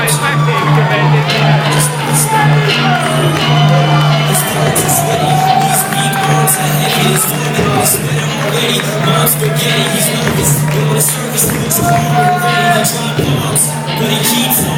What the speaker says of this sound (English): The whole crowd was so loud